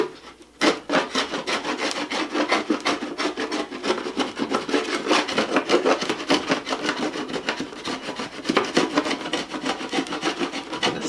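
A sharp wood chisel scrapes a decal off the shroud of a Sportfisher 5 hp outboard motor, giving a steady, close rasping rub that runs almost nonstop with short strokes and no talking.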